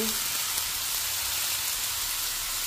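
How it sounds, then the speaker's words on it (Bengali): Chicken pieces fry in a pan for a creamy chicken puff pastry filling, giving a steady, dense sizzle with fine crackling that runs unbroken throughout, close and fairly loud. "দেখো আমি চিকেনটা দিয়ে দিচ্ছি"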